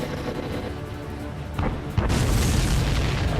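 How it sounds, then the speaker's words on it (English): In the Ace Combat 7 video game, an enemy supply ship explodes in a loud, rumbling boom that swells midway, then settles into a sustained roaring blast over steady in-game engine noise. "Did you see that explosion? Looks like that's one of them down."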